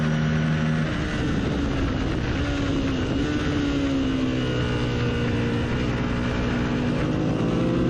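Racing motorcycles run at an ASRA road race at Blackhawk Farms, with another bike right behind. Engine drone fills the whole stretch, loud and continuous, and its pitch rises and falls as the bikes accelerate through the turns.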